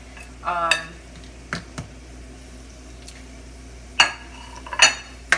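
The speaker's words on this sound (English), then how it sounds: "Now I'm going to add my peppers in there, and then I'm going to just let that simmer down." Bell peppers go into onions cooking in butter in a pan, with a low sizzle under intermittent scrapes and clinks of a utensil stirring against the pan.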